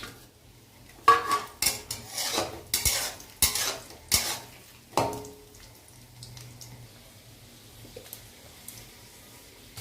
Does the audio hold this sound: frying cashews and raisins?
yes